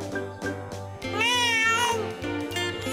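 A cartoon cat meows loudly and close, a long rising-and-falling yowl over a steady rhythmic music backing in a children's animated show.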